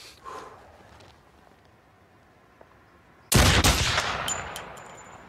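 A sudden loud burst of film gunfire comes after a few quiet seconds, with one sharp shot followed by a rapid volley and then a fading ringing tail.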